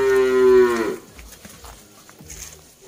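A Peranakan Ongole (pegon) bull at a cattle sale gives one loud, close moo lasting about a second, then only quiet background sounds follow.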